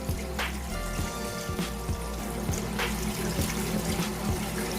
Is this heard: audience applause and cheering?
no